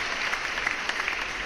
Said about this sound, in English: I wanted to give them a special applause.